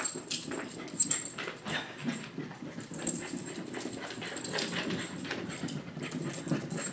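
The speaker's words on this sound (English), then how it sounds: "What has gotten into my old lady dog?" An old dog whimpers and pants restlessly nearby, with faint clicking and shuffling sounds, as if pacing around.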